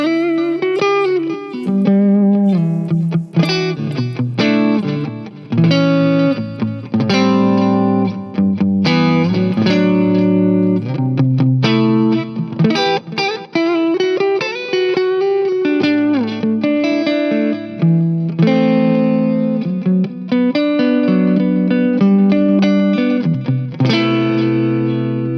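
Harley Benton guitar on its neck pickup, playing a clean tone dressed in delay and reverb: a continuous run of ringing single notes and chords with echoing tails, loud and close with no talking.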